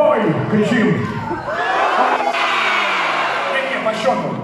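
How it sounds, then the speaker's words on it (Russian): Concert crowd at a punk rock show in Novosibirsk shouting together, a dense roar of many voices rising and swelling across the moment, loud and close, with a voice audible over the mass. "Давайте еще раз. Хой! Кричим."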